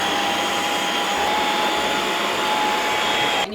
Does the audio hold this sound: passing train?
no